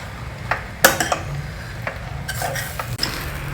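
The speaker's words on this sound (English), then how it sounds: "Mix everything well together." Chopped bread pieces are stirred into tomato masala in a pan, giving soft scraping and light clinks of a spoon against the pan in short, irregular strokes at close range, with no talking.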